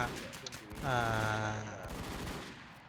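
Gunfire rattles in the WarZ video game, a burst of shots followed by a ringing sustained tone and scattered further shots, moderately loud and close.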